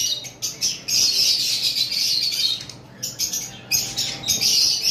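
Caged double factor violet masked lovebirds chirp in quick, repeated bursts of shrill tweets with short pauses between, loud and close.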